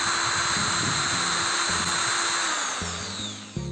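A power drill runs at full speed in a test, giving a loud, steady high whine with a rushing airflow hiss from its large vents; the pitch wavers slightly and dips near the end.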